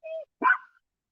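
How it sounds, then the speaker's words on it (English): A single short dog bark sounds close and clear indoors at a house, preceded by a brief whine, then silence. "Stop barking."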